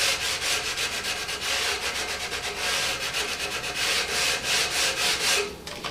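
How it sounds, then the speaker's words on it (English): Fine-grit sandpaper rubbed lightly by hand over a wooden part of a raffle ticket tumbler, an even run of soft, close rasping strokes in a steady back-and-forth rhythm that stops abruptly near the end. "So it's just very, very lightly and a finer grit to smooth this out."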